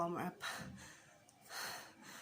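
Breathy panting and gasps from a woman after an exercise warm-up of jumping, heard as close, heavy breaths in uneven bursts with soft pauses between them.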